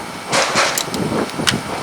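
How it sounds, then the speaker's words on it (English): A Lotus 18V cordless impact drill driver whirs in short bursts with a few mechanical clicks from the chuck, close and fairly loud, with no talking over it. "We'll press on the drill trigger"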